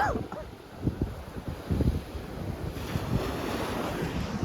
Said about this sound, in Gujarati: અહીં દરિયો યાર એક વખત જોવો તમે કેવો દરિયામાં મોજા